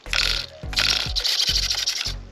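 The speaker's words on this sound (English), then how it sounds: "Ooh, fast servo." Quick bursts of a fast steering servo on an HPI Jumpshot SC V2 RC car, whirring back and forth about five times in rapid succession, close and fairly loud with no talking.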